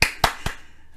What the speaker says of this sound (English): Virtual round of applause